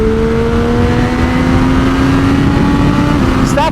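A 2024 Triumph Street Triple 765 RS motorcycle with stock exhaust, heard close and loud as a steady engine drone with a rising tone, under constant wind rush and road roar.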